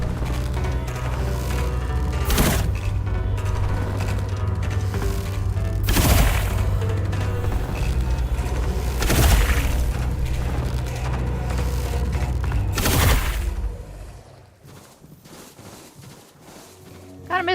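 Gunshots in the video game Tainted Grail: several sharp, loud reports spaced a few seconds apart over a low sustained rumble, ending in a quieter stretch, with no speech over them.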